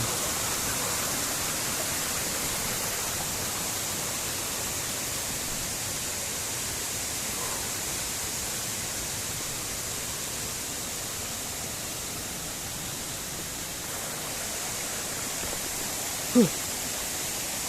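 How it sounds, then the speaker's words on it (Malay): The Cot Teropong waterfall pours in a steady, broadband rush of falling water, constant and moderately distant, with one brief sharp click near the end. "sudah sampai di air terjun"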